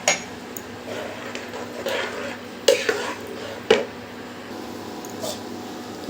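A lid is set down on a pot of simmering chickpea curry, giving two sharp metallic clinks a second apart among lighter kitchen clatter, close and moderately loud.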